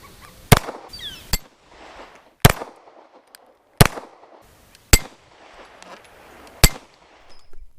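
Rifle shots ringing off a 6-inch steel gong target outdoors, six sharp cracks spaced irregularly over several seconds, each followed by a short metallic ring and then quiet.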